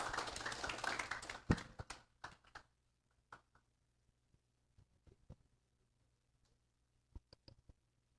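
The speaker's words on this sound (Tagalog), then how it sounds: "Oh, palakpak nga mo." Audience hand clapping: a dense, fairly faint burst of claps that tapers off after about two seconds into scattered isolated claps and taps, then near silence.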